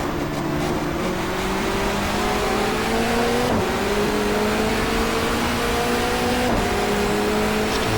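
The engine of a 1994 Asia-Pacific touring car drones at high revs in the GTR2 racing game, its pitch climbing steadily and then dropping abruptly at each of two gear shifts, loud and continuous with no voices.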